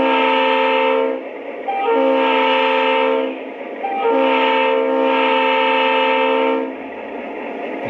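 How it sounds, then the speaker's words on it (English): Crossing whistle from a Revolution Train Engineer controlled model train engine: two long and two short steady horn-like blasts in the classic crossing pattern, loud and close, with a brief rumble at the end. "Number 4 is your crossing whistle."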